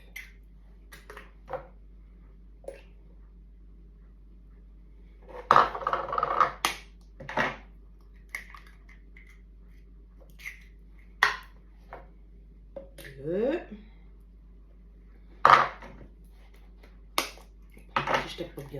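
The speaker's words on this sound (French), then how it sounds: "je casse mes 4 œufs" Four eggs are cracked against a bowl's rim for a French apple fondant cake, giving sharp, isolated taps and clinks spaced irregularly, with quiet kitchen handling sounds between them.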